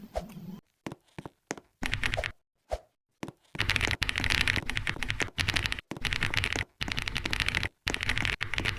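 Roblox game sounds resembling computer keyboard typing: rapid clicky taps and bursts, at first sparse and separated by silences, then denser and louder in gated stretches broken by brief pauses.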